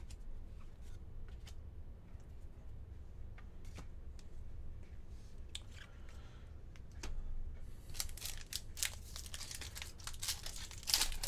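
A Magic: The Gathering Khans of Tarkir booster pack wrapper crinkles softly up close, with a few sharp crackles and then a louder burst of tearing and crumpling foil near the end.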